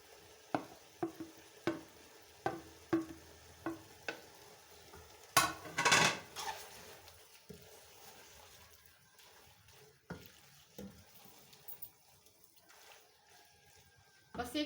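Fried vegetables are stirred in a pan, a spoon scraping and tapping in a regular rhythm of sharp knocks, followed by a louder burst of clatter and then softer intermittent stirring.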